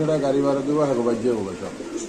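Pigeons at a Bangladeshi pigeon market, Pakistani Giribaz and racer birds, giving soft repeated cooing calls close by, mixed with people talking over them.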